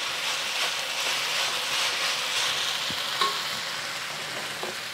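Soy sauce chow mein stir-frying in a hot wok with chives, a steady bright sizzle under occasional clinks and scrapes of the utensil, close and continuous without talk.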